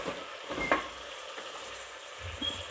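Mutton head curry with chilli powder and ginger-garlic being stirred in a pot, a steady soft sizzle and hiss with a few scraping stir strokes, fairly close and without talk.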